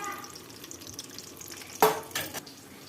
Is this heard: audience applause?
no